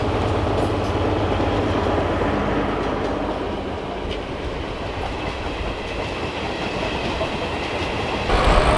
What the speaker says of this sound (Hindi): और ट्रेन आ रही है